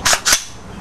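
Two crisp, close clicks in quick succession from a custom competition-ready AR-15 trigger resetting, each a short sharp snap, then quiet.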